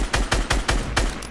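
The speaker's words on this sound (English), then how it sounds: "Where's somebody shooting? Oh! Let's shoot him." Rapid gunfire in a video game shootout, a quick burst of about six sharp shots in steady rhythm, loud and close with no talk.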